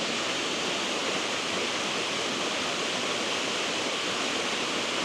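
Scaleber Foss waterfall pours in a steady, dense rushing roar that stays constant from start to finish, heard close with no voices.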